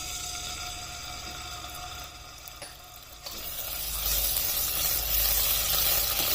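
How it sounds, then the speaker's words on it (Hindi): Garlic and ginger paste sizzles in hot oil in a pan, a continuous frying hiss that dips briefly, then swells louder and fuller as cooking goes on, with no talking. "ऑयल गर्म होने पर इसमें लहसुन और अदरक का पेस्ट डाल देना है 1 टीस्पून"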